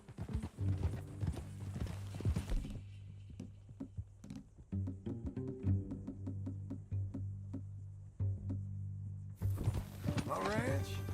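Steady clip-clop of horse hooves walking at an even pace in the video game Red Dead Redemption 2, close and clear, with brief pauses and some background rustling.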